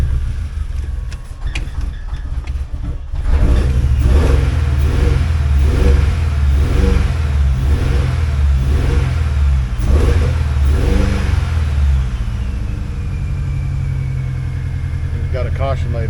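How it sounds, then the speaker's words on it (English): A 2003 Mini Cooper engine cranks, then runs and revs in repeated rhythmic pulses, loud and close, before settling to a steadier idle, with people talking nearby. "That would be a running car."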